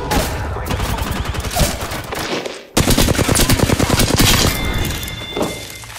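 Dense automatic gunfire from an Apex Legends firefight rattles continuously, with rapid, loud bursts and heavy thumps that briefly drop away near the midpoint, then resume just as intensely and keep hammering to the end.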